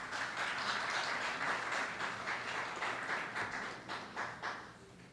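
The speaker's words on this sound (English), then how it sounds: "Another round of applause for the grade 9." Applause from an award ceremony audience for the grade 9 students, many hands clapping together at a moderate level and then thinning out into a few scattered claps near the end.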